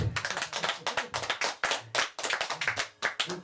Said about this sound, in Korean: 박수가 나올 때가 됐는데